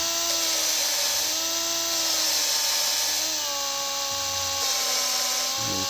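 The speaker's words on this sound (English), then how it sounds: "right there you can see I just turn the drill on" A power drill whines steadily at a high pitch while reseating engine valves on a 5.2 or 5.9 engine, its tone shifting slightly as it speeds up and slows, loud and close.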